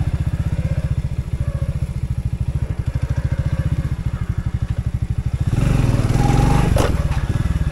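Orion moped engine running while riding, a steady close putter with rhythmic firing pulses that swells louder and rougher near the end as it pulls harder.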